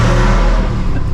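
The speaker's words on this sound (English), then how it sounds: "Active exhaust on and go." A V8 Jeep Wrangler with active exhaust on revs hard and roars as it accelerates, a loud, deep exhaust rumble filling the short burst with no voices.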